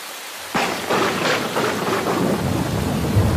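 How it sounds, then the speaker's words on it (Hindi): Heavy thunderstorm: steady pouring rain hisses throughout while a sharp thunder crack lands early and rolls on in several rumbling waves, with no voices. "बारिश आसमान से इस तरह बरस रही थी जैसे कभी बरसी ही ना हो।"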